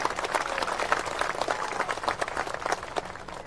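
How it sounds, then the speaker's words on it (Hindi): Loud applause from an audience at a Holi gathering in Budhni, Sehore, welcoming a guest, with dense, sustained clapping filling the whole stretch. "सब लोग जोरदार ताली बजा करके उनका स्वागत करें"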